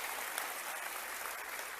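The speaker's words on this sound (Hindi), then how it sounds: "ताली बजाओ तो दिल खोल के बजाओ" Audience clapping at a regional industry conclave in Rewa, a fairly faint, steady patter of many hands heard from a distance without a break.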